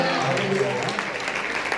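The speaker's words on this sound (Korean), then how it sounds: "जोरदार तालियां बजाइए" A church congregation at a Pakistan revival assembly claps in a brief burst of applause while a voice speaks over the clapping.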